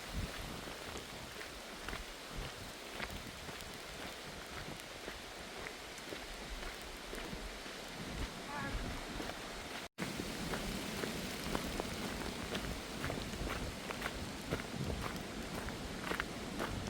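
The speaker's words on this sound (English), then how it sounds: "It's starting to rain again." Steady rain patters on the Appalachian Trail in North Carolina, a dense hiss of drops with a few sharper ticks, with a brief dropout midway.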